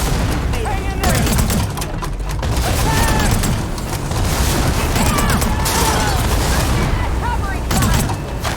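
Sustained gunfire and booming explosions from a firefight in the video game Horizon Forbidden West, loud and continuous for the whole stretch, with shouting voices mixed in.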